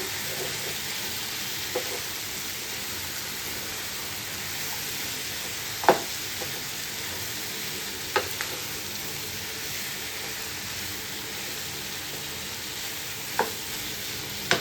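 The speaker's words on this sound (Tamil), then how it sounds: "மிளகு, சீரகம், சோம்பு, மல்லி போட்டுக்கலாம். நல்லா மிக்ஸ் பண்ணிக்கோங்க." Chicken fries in a pan as ground pepper, cumin, fennel and coriander are stirred in, making a steady hiss of sizzling under a few sharp spoon scrapes against the pan, with no talk.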